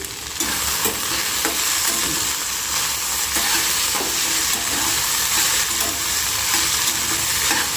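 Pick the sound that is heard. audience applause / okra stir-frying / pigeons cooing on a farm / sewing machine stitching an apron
okra stir-frying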